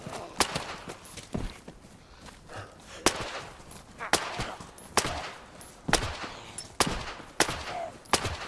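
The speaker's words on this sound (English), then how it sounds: "Those shots are really, really close." Close gunshots crack out in a zombie survival game, sharp single reports spaced irregularly about once a second, loud against quieter rustling in between.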